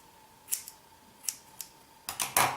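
Scissors trim hair during a DIY layered haircut at home, with a few sparse, crisp snips, then a quick close burst of cuts near the end, no voices.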